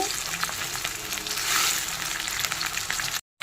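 Onions and curry leaves fry in a pan for spicy Andhra chicken, giving a loud, steady broadband sizzle with crackling bursts that holds throughout, then briefly drops out near the end.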